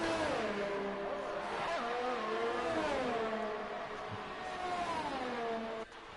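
Race car engines from the GP4 sim racing game at Italy's Grand Prix qualifying, a steady high whine rising and falling through gear changes on a lap, loud and continuous with faint commentary beneath.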